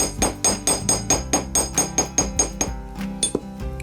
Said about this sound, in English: And hammer the other end as well, just to smooth it in there